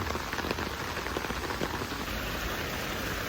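Autumn rain falls steadily on the way to church, a dense, even hiss of drops striking surfaces close by, with no voices over it.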